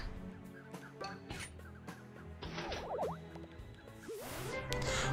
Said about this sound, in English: all the crows are encroaching on me!